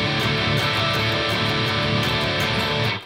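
A heavily distorted electric guitar plays a dense melodic metal riff counted in groups of four, loud, steady and close throughout with no gaps or talking.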